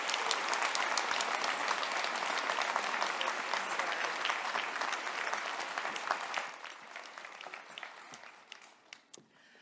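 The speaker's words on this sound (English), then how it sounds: "I think we should give another round of applause to our honorary doctorates for such an inspiring story." Audience applause at a university convocation for science and engineering graduates, a dense steady round of clapping that thins out into scattered individual claps near the end.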